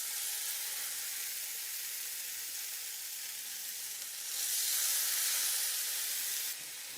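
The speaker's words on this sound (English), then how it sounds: "I'm gonna pan fry my monkfish" Monkfish sizzling as it pan-fries in butter ghee marinated with spices, a steady loud hiss that swells briefly near the end before settling back, with no talking.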